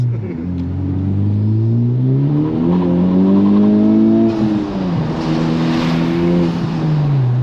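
A 2021 Honda Civic Type R engine revs up through rising tones, loud and close from inside the cabin, the pitch dropping at a gear shift before climbing again.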